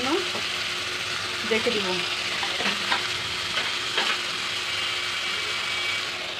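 Food sizzles steadily in a frying pan while a utensil scrapes and knocks against the pan in a few distinct strokes. A voice speaks briefly at the start over the constant hiss.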